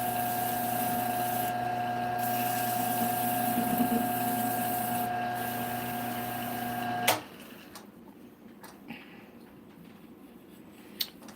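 Small electric motor running with a steady tonal whine and hum for about seven seconds, then cutting off abruptly to a quiet room with a few faint clicks and knocks.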